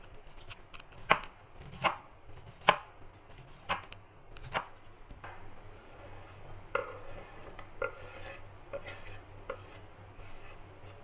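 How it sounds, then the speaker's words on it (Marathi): Corn kernels come off the cob in a series of sharp knife-like cuts and scrapes against a board, several louder strikes over a quiet kitchen background. "कॉर्नचे दाणे काढण्याची ही एकदम सोपी पद्धत आहे."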